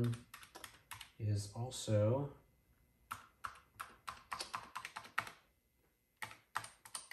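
Keys clack on a flaky Mitsumi keyboard of a Texas Instruments TI-99/4A computer in quick, irregular bursts of close tapping, with someone speaking briefly between the keystrokes.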